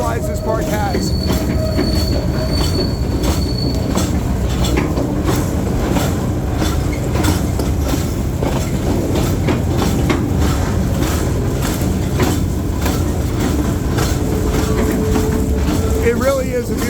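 A train on the Capital Railway at Six Flags America amusement park rolls steadily along the rails with a continuous rumble, rhythmic clacking and occasional high wheel squeals, with faint voices beneath the noise.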